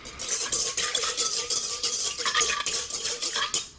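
A whisk beats a pizza dough mixture in a bowl, rapid rhythmic scraping and clinking strokes, close and fairly loud, continuing steadily without talk.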